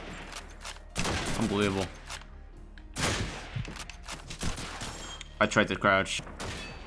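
Gunfire in Call of Duty 2 on Xbox 360 comes as repeated bursts of loud, sharp shots in several clusters, with a voice talking over and between them.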